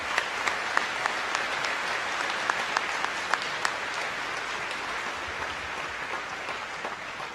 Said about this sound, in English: join me in another round of applause for all 3 of these fine